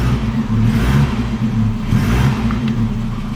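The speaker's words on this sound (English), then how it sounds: "Wow, that exhaust leak is something else" A car engine idling with an exhaust leak, a steady low rumbling drone with a rough, uneven throb, close and loud throughout.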